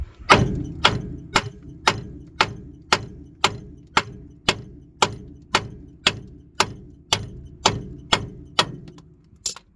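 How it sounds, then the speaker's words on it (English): Loud, sharp metallic hammer strikes land in a steady rhythm, about sixteen blows, each ringing briefly before the next, close up with no talking, while hammering out a ball joint on a 1997-2004 Ford F-150. "Now you can hit this with a hammer right here."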